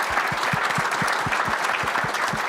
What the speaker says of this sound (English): if we could have a round of applause for our speakers